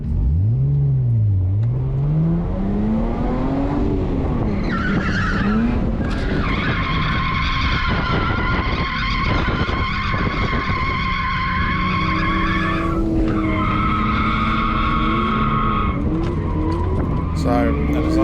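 Car drifting through corners on a track, engine revving hard with repeated clutch kicks and loud, sustained tyre squeal and skidding, up close with no talk.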